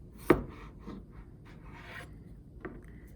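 A kitchen knife slices through a potato onto a cutting board. One sharp cut lands near the start, followed by fainter scraping and tapping sounds. All of it is close by and quiet, with no talk.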